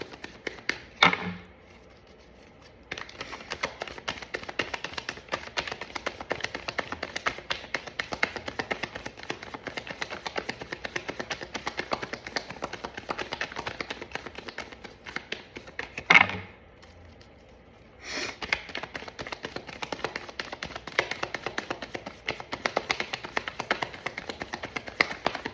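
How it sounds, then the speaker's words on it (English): A deck of tarot cards is shuffled in steady, rapid riffling flutters, close and quiet, with two short pauses between runs. "we'll give it 3 more shuffles"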